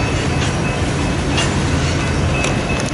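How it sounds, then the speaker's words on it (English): A BNSF train rolls by on the Sioux City subdivision through Lyons, Nebraska, a steady, loud broadband rumble of rail cars with faint clicks and a thin high tone running throughout. "She likes to watch the trains go by."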